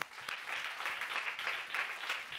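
A church congregation at a healing service bursts into applause, a dense, even wash of clapping hands from a crowd that swells and ebbs briefly at moderate distance.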